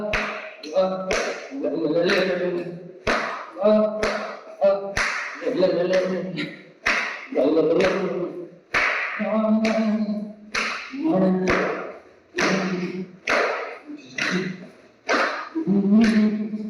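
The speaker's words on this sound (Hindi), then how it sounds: "आगे पीछे ताली का अभ्यास" A group of children practises rhythmic clapping in unison, sharp sharp claps in repeated patterns with short pauses, alternating with chanted counting and spoken instructions between bursts.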